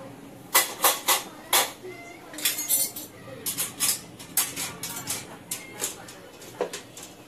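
Dishes and cutlery are handled while a kitchen is cleaned, giving a series of close clinks and clatters at an irregular pace. Speech is also picked up.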